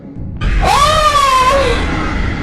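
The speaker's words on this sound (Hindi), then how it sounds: "जैसे ही रिया वापस मिरर की तरफ मुड़ी तो उसकी चीख निकल गई" A woman's scream in a Hindi horror story, a single loud, drawn-out shriek that rises sharply then holds and fades, close and dominant.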